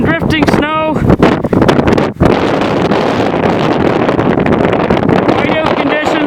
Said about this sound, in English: Blowing and drifting snow.